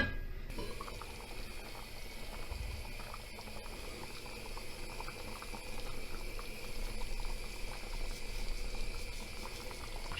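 Bulgur meatballs and zucchini simmer in a covered pot, a low, steady bubbling and burbling that runs continuously at moderate closeness, swelling slightly toward the end.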